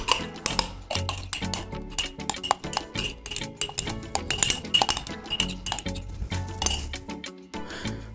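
A metal spoon clinks steadily against a bowl while beef kofta mixture with garlic-ginger paste is mixed, giving dense, continuous rattling and tapping that is close and bright, with no talk.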